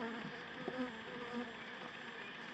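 Honeybees buzzing during a hive inspection, a soft, steady droning hum with a few individual bees passing closer, faint and continuous with no talking.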